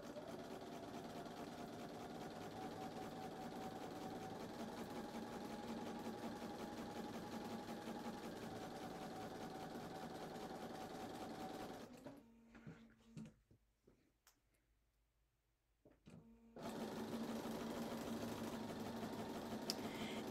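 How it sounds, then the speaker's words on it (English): A sewing machine hums steadily while stitching the sides of a quilt block, running continuously at a fairly quiet level, pausing briefly for a few seconds, then resuming its even whir. "So now I can sew down the other two sides at a quarter of an inch."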